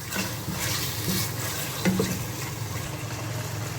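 Egg fried rice ingredients stir-fried in a pan, a steady close sizzle with scraping and stirring strokes throughout and no voices.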